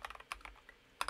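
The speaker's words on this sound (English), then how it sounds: "let's do a quick typing test" Quick keystrokes clatter on a mechanical keyboard fitted with Maxkeys Virtual War keycaps, a short burst of close, crisp clicks in an irregular typing rhythm.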